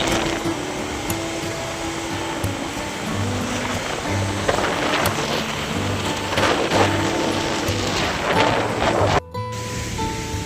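Steady rain falls at Pattimura Airport in Ambon, a continuous dense hiss with scattered heavier patters and a faint hum beneath, unbroken for the whole stretch.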